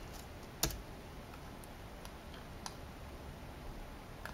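Computer keyboard typing while working in a game engine editor: a few scattered soft clicks and one sharper key press early on, quiet and close, without speech.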